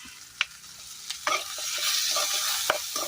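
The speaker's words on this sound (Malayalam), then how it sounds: "കൂടെ നമ്മൾ ചെറിയ ഉള്ളിയോടെ വഴറ്റുക. ഒപ്പം പച്ചമുളക് ഇട്ട് കൊടുക്കുന്നു." Shallots and green chilies with crushed garlic sautéing in a pan for a Kerala curry, a soft sizzle that builds steadily, punctuated by a few sharp clinks of a spoon against the pan, close and without talk.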